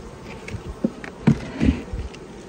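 Honeybees buzzing around an opened hive during an inspection, a steady hum with a few louder passes as bees fly close by, no talking.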